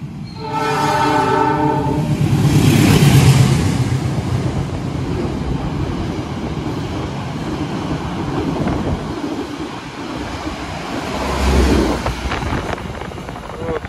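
A passenger train (Indonesian KA Malabar) roars past close by at night, its horn blaring at the start, followed by a long rumbling clatter of cars rushing through.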